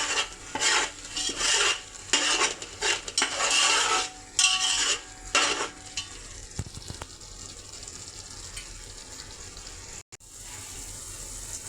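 Cooked rice being stirred into paneer gravy in a pot for paneer dum biryani, several bursts of scraping and clinking from the spoon against the pot, then a quieter stretch of soft sizzling.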